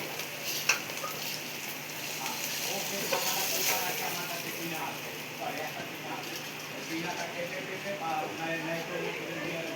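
Rice for Bengali basanti pulao (yellow rice) frying in a pan, giving a steady, close sizzle with soft scraping and stirring that runs throughout.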